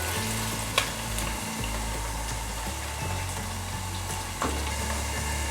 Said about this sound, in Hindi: इसको हम फ्राई करेंगे थोड़ी देर के लिए।